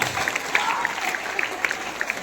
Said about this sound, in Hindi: तालियों से स्वागत होना चाहिए।